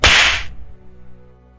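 A sharp slap rings out once at close range, a loud broadband crack in a crowded public path, quickly fading into a low lingering tone with no voices.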